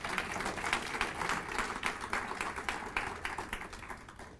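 Audience applause at a city beautification awards ceremony, a steady wash of many hands clapping throughout at moderate volume, with no speech over it.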